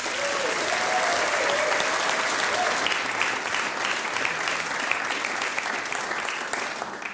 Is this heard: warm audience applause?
yes